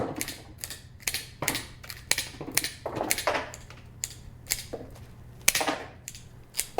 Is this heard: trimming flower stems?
yes